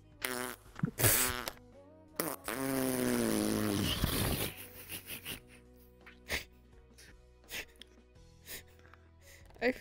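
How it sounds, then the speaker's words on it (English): Several wet, buzzy fart-like blasts, one long and drawn out, then a scatter of short puffs and pops, close and loud with no talking. "Thank you for farting in my ear."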